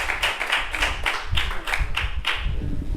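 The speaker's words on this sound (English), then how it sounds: "So let's give it up for Jeff Colvin. Applause" A handful of distinct hand claps ring out at an event honoring speaker Jeff Colvin, falling in a loose, fairly quick rhythm, close and clear against a quiet background.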